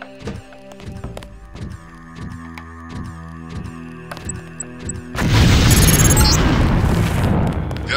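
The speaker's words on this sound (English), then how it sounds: "If you aren't close enough, the LAM will fall to the ground and detonate." A LAM explosive detonates in the HX video game training mission, a sudden loud blast at about five seconds that roars and rumbles to the end, after quieter game tones and hits.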